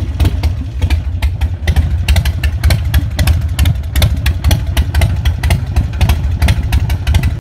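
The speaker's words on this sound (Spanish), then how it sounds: "Y si es carburada, pues es el sonido que te debe hacer una Harley." A carbureted Harley-Davidson Sportster idles close by with a loud, loping, uneven potato-potato beat, its rhythmic pulses running continuously with no voices over it.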